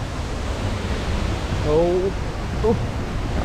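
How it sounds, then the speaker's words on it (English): A rainforest waterfall in Costa Rica roars as a steady, broad wash of rushing water heard from a dense forest trail, with a person briefly exclaiming over it. "We hear the waterfall somewhere over here."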